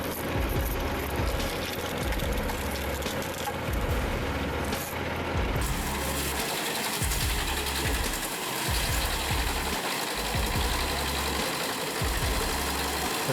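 A screw log splitter from Agro WP drives its cone through a log along the grain, with a continuous engine drone, steady mechanical grinding and a deep rhythmic low thumping throughout.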